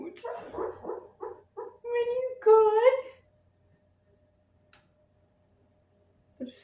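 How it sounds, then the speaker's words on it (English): A pet dog barking in a home while someone talks, several short, close yips and barks mixed in with her voice early on, followed by near silence broken by a faint tick. "My dog's barking at his thing"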